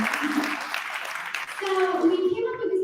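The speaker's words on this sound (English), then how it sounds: "So big round of applause." Audience applause at a youth summit in Istanbul gathering 150 young leaders from 50 nations fills the first half, a dense broadband patter that fades as a voice begins speaking over it.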